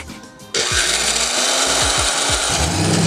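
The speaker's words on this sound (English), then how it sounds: "Are you drilling the right way? I'm trying to get it slow and steady." Power drill boring a hole in a car part on a prerunner truck, a sudden loud continuous grinding whir with shifting pitch as the bit bites and slips, steady throughout.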